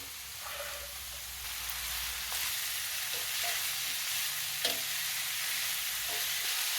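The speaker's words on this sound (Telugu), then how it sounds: "దీంట్లో ముక్కలు వేయించుకోవడానికి ఇంకొక టేబుల్ స్పూన్ ఆయిల్ వేస్తున్నాను ఈ కోసి పెట్టుకున్న పువ్వు ముక్కలన్నీ కూడా ఇందులో వేసేస్తున్నాను" Chopped banana flower pieces frying in oil in a kadai for a Telugu roti pachadi, a soft, steady sizzle with a few light stirring scrapes, fairly quiet and close, with no talk.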